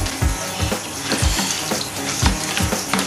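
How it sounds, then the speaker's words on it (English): Water gushes in uneven surges out of an aquarium siphon hose, splashing loudly and close with periodic gurgling pulses, and no one speaks. "basically sucking the water up through the hose, and then after that it will continue to pour out"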